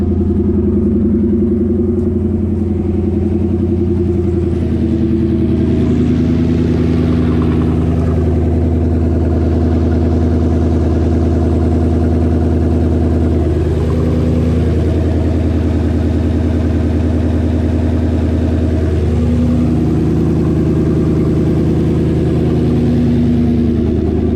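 An On3 Performance twin-turbo Ford Coyote V8 runs loud and close in a steady, deep, rumbling idle, with slight swells in pitch over about 24 seconds and no voices.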